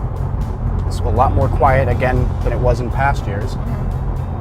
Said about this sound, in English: So on the highway, we're doing about 70 miles an hour right now.